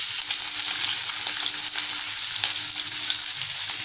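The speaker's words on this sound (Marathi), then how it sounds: "त्यामध्ये आपण मीडियम आकाराचा कांदा उभा चिरून घेतलाय तो घालूया।" Sliced onion sizzles in hot oil in a pan for a Maharashtrian potato bhaji. The frying crackles steadily and up close, with no one speaking.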